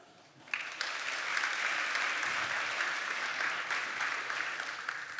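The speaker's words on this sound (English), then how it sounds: "give a round of applause to Barend" Audience applause for a speaker at a PyData tech conference, starting abruptly after a brief quiet moment and then holding steady as a dense, even wash of clapping from a fairly large crowd.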